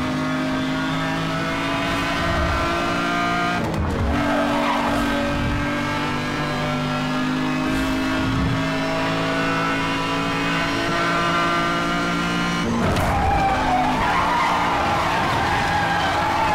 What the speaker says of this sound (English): that handbrake was a little too much